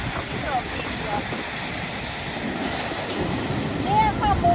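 Strong sea waves surge against the rocky coast of Gran Canaria, giving a broad, continuous rushing roar with wind buffeting the microphone, swelling louder toward the end.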